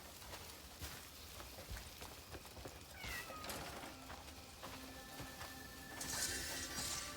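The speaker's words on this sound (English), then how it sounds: "You want to play with my cat?" A cat in the video game Crimson Desert meows a few times over a busy game soundscape, the calls soft and fairly close, with no speech.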